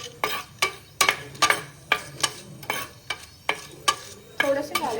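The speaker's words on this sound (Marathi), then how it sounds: "खोडा मसाला, मिरची, लसूण त्याला आपण परतून घेऊ" Whole spices, chili and garlic are sautéed in hot oil, with about ten evenly paced spatula scrapes over a light sizzle, close and clear.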